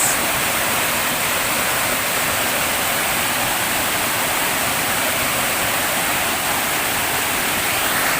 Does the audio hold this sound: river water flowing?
yes